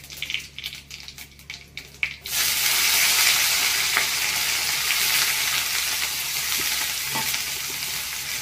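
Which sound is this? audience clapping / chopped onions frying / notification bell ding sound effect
chopped onions frying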